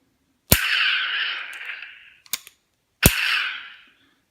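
A toy Luke ESB blaster with Blastercore 5.0 being cocked: a sharp mechanical snap followed by a hissing electronic burst, then a few quick clicks and a second snap with another burst, close and loud.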